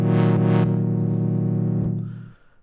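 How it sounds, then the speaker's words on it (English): A sustained synth pad chord from detuned sawtooth oscillators with a slow shimmering, phasing quality, held steady for about two seconds before fading out. "we can have that as sawtooth. We detune the other saw a bit."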